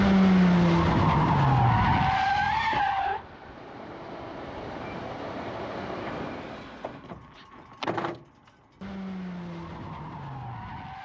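A Formula 4 race car spins on the Red Bull Ring, with a loud engine and a screeching tyre squeal falling in pitch, then quieter rumbling, a brief sharp burst and the engine revving again.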